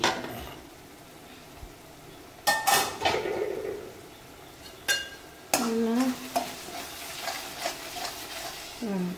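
Mushrooms frying in a pan, with soft sizzling under a few sharp scrapes and clinks of a spoon stirring against the metal, and quiet stretches between stirs.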